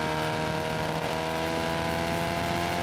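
Race car engine at Sebring droning loud and steady as it accelerates through a right-hand turn, a constant dense roar with layered engine tones and no breaks.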